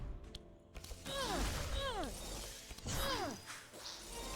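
Ice shattering effect in the card game Across the Obelisk, heard as repeated crackling, tinkling bursts with sweeping, descending glassy tones, loud and close over a layered game soundscape.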